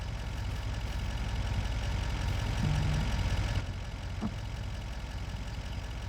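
Tractor engine in Farming Simulator 25, a steady low idling drone running throughout at moderate level, with a brief tonal blip partway through.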